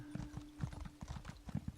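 Horse hooves clip-clop in a steady, uneven trot in The Elder Scrolls Online, each fall a fairly loud, close hit under a constant faint tone, with no talk over them.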